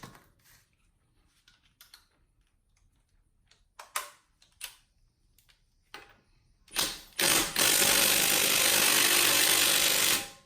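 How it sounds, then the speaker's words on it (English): A 3/4 inch socket working loose wheel lug nuts on a Jeep Patriot on jack stands, with scattered clicks and knocks followed by a loud sustained whirring burst near the end. "I'm going to go ahead and remove the lug nuts for this with a 3/4 inch"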